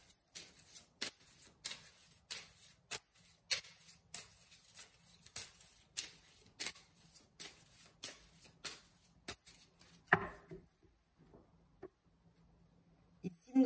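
A deck of tarot cards is handled and cut, with a steady series of soft crisp card snaps and taps repeating about every half second, fairly quiet and close.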